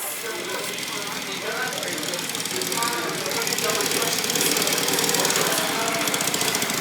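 A 1970s IZh motorcycle engine runs with a rough, rapid knocking rhythm, close and steady, growing slightly louder partway through, at a winter motorcycle gathering.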